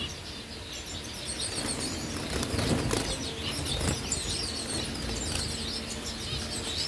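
A young finch leaps out of its nest basket in a breeding cage, with a flurry of close, rapid wing flaps and faint chirps from other cage birds around it.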